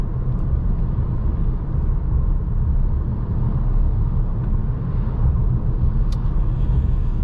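Steady in-cabin road rumble and engine drone from a 2023 Audi S3 Premium Plus cruising on straight pavement, a continuous moderately loud low hum with no talk.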